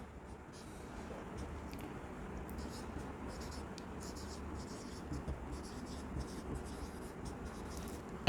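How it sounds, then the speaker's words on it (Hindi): A marker or chalk scratches notes onto a board in short scraping strokes, faint and steady throughout, in a quiet classroom-like room without clear talking. "यहां पर लिख लेते हैं इसको थोड़ा सा।"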